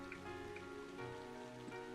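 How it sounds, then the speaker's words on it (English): Rain falls in the video game Trails of Cold Steel, a soft steady patter layered with quiet tonal background music, faint and continuous with no voices. "With summer well underway, a rainy spell seemed to hang over Trista."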